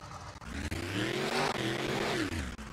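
Fire truck engine in the Rigs of Rods driving game revving hard through big exhaust pipes, a loud continuous vroom that rises and falls in pitch, close and alone.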